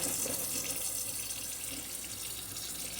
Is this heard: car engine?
no